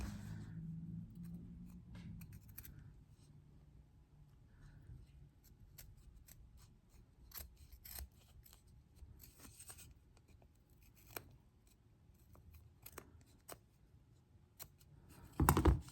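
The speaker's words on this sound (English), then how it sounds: "maybe I can just get those little bits in the corners with the scissors" Quiet, sporadic snips of scissors cutting fabric, scattered irregularly over a faint background, with a louder bump at the end.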